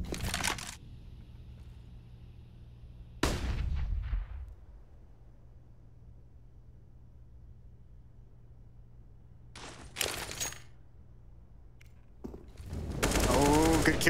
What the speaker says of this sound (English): OC in the bomb site missed the first shot, but EliGE's on catwalk, pounces through to